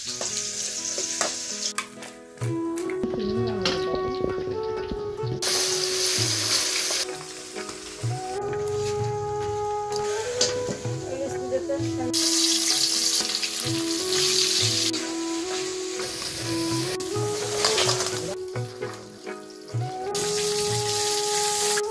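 Crab cooks with coconut milk in a pan on a home stove, giving a steady sizzle and bubbling for a long stretch. Stirring and occasional clatter run through it, and no one speaks.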